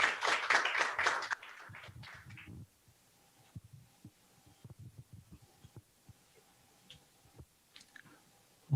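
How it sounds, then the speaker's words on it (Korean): Audience applause welcomes the symposium chair at a thanksgiving service marking the 130th anniversary of Rosetta Hall's arrival in Korea. A loud burst of clapping fades within about two seconds, leaving quiet room sound with soft low thumps. "큰 박수로 환영해 주시면 감사하겠습니다"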